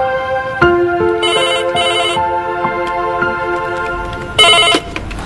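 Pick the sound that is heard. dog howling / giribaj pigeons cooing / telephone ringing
telephone ringing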